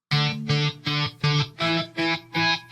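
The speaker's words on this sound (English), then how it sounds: "every note he's playing is just a volume swell and then goes from 0 to 10 and back again" Distorted electric guitar chords pulse in rhythmic volume swells, about seven repeated surges that rise and cut off evenly, close and loud with no voices.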